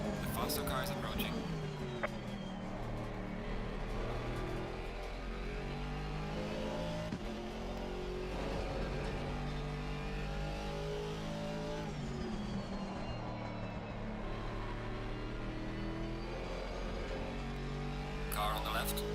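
A GT4 race car engine in Assetto Corsa Competizione at Kyalami roars steadily, revving and shifting through gears with occasional tire squeal, while voices talk over it.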